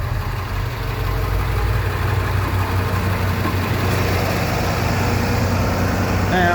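A school bus diesel engine held at high idle, a steady loud low rumble running unbroken throughout with no pauses.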